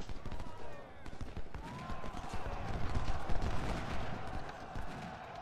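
Hoofbeats clatter steadily amid a busy, noisy Civil War battle scene in the video game Ultimate General: Civil War, with gunfire-like cracks and voices mixed in, the galloping horses fairly loud throughout.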